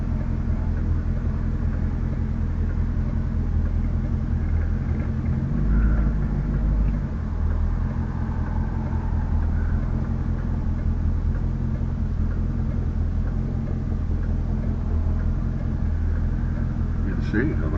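Low rumbling road traffic at an intersection, heard from inside a C4 car with a dash cam, a constant muffled drone of engines with a brief heavier swell partway through.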